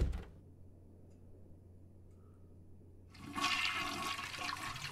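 A toilet flush heard after a sharp sound at the start, then near-silence with a low hum, then a loud rushing burst of water that keeps going to the end.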